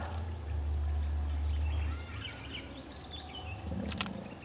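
Water pouring from an automatic irrigation hose in a durian orchard, a steady close rush for about two seconds that then drops to a softer trickle with faint birdsong in the background.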